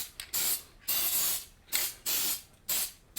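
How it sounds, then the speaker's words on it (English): Epoxy parfilm release agent sprayed into a mold for silicone prosthetics, heard as five short hissing aerosol bursts separated by brief pauses, close and fairly loud with no talking. "Spraying a little epoxy par film in here as a separator for the mold."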